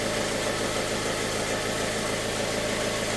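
A car engine idles steadily in a workshop bay before a timing chain replacement, a close, even low rumble with a faint rhythmic knock running unbroken throughout, with no voices.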